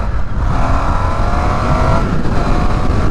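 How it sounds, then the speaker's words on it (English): Exhaust of a 2022 Indian FTR 1200 Rally motorcycle underway, a steady, loud, continuous engine drone with wind rush, held at a constant level throughout with no pause. "my exhaust is not loud"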